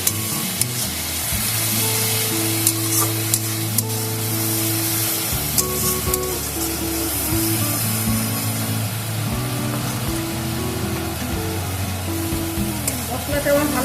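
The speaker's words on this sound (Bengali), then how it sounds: "ভালো করে কষিয়ে নেব মশলাটাকে" Spice paste with a little sugar being fried and stirred in a pan for a spicy Bengali pabda catfish curry, loud continuous sizzling and spattering with a low droning hum underneath.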